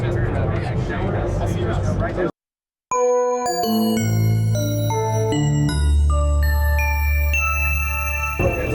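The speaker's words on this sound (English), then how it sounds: "It's a bell-like sound from Howard using the Resonator and virtual analog waveforms" A few seconds of talk, a brief silence, then a bell-like tone from a Waldorf Quantum synthesizer, using its Resonator and virtual analog waveforms, rings out in layered chiming notes that sustain and overlap.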